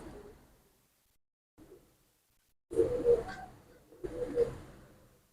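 Imported pigeons in a breeding room give two short bursts of soft, low cooing close by, after faint rustling and near silence.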